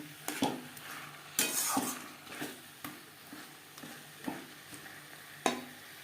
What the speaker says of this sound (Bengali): আলু মশলার সাথে আলু বেশ ভালো করে মিক্সড করে দেব